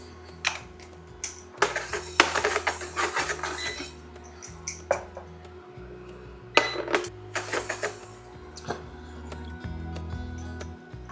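Whole spices such as bay leaves, cinnamon, juniper berries and cloves rattle and tick in a hot pan, quick clustered clicks of stirring over a low background hum.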